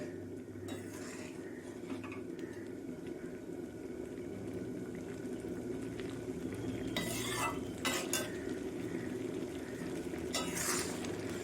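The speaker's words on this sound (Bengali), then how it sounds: "ডালটা ফুটে গেছে আমি আর বেশি জাল দেব না" Vegetable dal with onion and garlic simmers in a pot on a gas stove in a Bengali kitchen, a faint steady bubbling broken by a few brief scraping stirs, with no talking.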